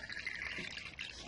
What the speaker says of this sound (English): I'm going to fill up the glass jar with water